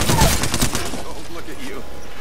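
Gunfire in the battle royale shooter Apex Legends, with a rapid burst of close, loud shots at the start that tails off quickly, and a voice speaking under it.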